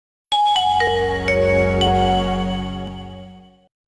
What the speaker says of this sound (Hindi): एक वक्त था जब ये सिर्फ एक रिंगटोन नहीं, भरोसे की आवाज थी।